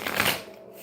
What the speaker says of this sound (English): Okay, I'll give these cards a couple more shuffles.